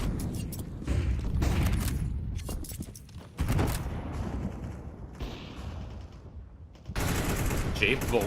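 Counter-Strike gunfire including a wallbang shot, with bursts of rapid rifle fire in clusters and sharp reports amid footsteps, loud and close, interleaved with quieter gaps.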